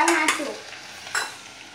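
Chopped tomatoes tipped into okra frying in a pan for bendakaya pulusu, then stirred: a close burst of sizzle and utensil scraping at the start, a second stir stroke a moment later, fading to a quieter simmer.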